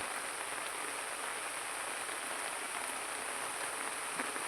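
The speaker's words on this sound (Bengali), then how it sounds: "দেখছেন কত বৃষ্টি।" Heavy rain falling in a dense, even hiss that stays constant throughout, with no voices or other sounds.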